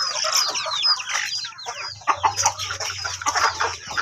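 Chickens in a dim coop with young chicks, giving a busy, moderately near stream of clucking and chirping calls over a constant background hum.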